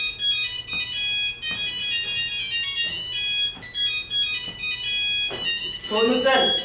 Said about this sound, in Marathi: फोन उचल, कदाचित फोन करणाऱ्याचा तुझ्याशी काहीतरी संबंध असेल.